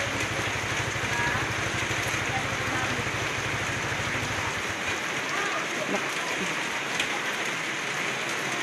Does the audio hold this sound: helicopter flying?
no